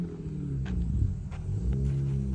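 A BMW car engine that has just started settles into a deep, steady idle rumble close by, with a few faint knocks over it.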